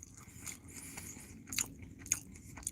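Food being chewed and bitten at breakfast, close to the mouth, with soft irregular crunches and wet smacks, no talking.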